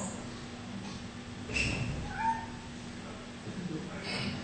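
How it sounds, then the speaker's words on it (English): A cat meows a few times indoors, short plaintive cries over a steady low hum, fairly faint and close, with no talking over them. "I have a cat here."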